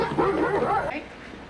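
A startled dog in an X-Files episode gives a short burst of yipping barks that trail into a high whimper, heard fairly close with faint voices in the background.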